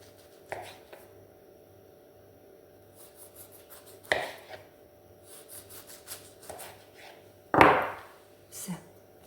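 Dough being cut into pieces on a board for fried potsyky, a few separate sharp knife chops spaced apart in a quiet kitchen, one stronger scraping cut near the end.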